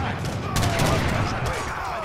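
Musket volleys in an Age of Empires III battle: dense crackling fusillade with overlapping pops and shouts, loud and continuous under a busy din of combat.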